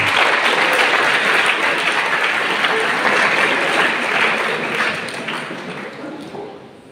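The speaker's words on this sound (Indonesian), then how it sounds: "Tepuk tangan buat Aven dulu." An audience applauds Aven at a seminary gathering, a thick sustained burst of clapping that holds steady and then gradually fades toward the end.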